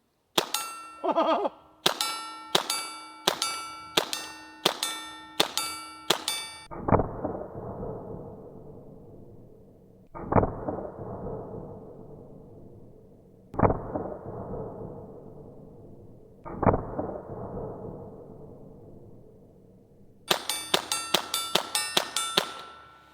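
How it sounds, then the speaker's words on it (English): Gumballs fired from a paintball gun strike a steel target, first as rapid runs of sharp metallic clangs, then as four single loud rings spaced a few seconds apart, each decaying slowly, before a final fast volley. "Let's see what happens when we shoot this steel target."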